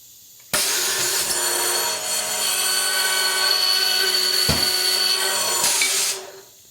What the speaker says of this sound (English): A skilled technician places a spool on the bushing sizing machine.